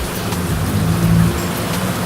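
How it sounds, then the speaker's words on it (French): Heavy rain pouring in a street in Asunción during a storm, a dense continuous hiss and patter on surfaces with low rumbling beneath, loud and close, with no voices. "à croire que la tempête nous suit"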